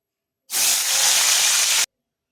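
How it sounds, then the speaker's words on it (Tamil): Raw plantain slices frying in hot oil give a loud, steady, bright hiss for just over a second, then cut off abruptly into silence. "இதே மாதிரி எல்லா வாழைக்காயும் பொறிச்சு எடுத்துக்குவோம்"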